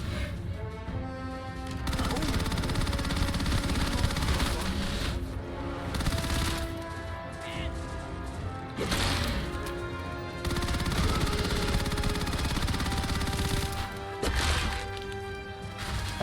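Dense, sustained gunfire from the video game Starfield rattles through most of the stretch, with steady bursts over a continuous musical and ambient game soundtrack, briefly dipping before resuming.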